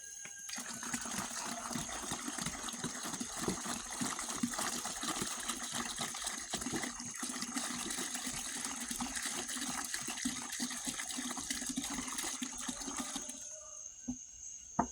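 Liquid pours steadily out of a gallon jug in one continuous gush into a pillowcase, a close, constant watery rush lasting several seconds before it stops abruptly, with no talk.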